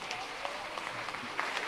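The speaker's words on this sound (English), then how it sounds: "Please, a round of applause for them." A crowd at a school's 70th anniversary celebration claps steadily, a dense wash of applause filling the room for a brief moment.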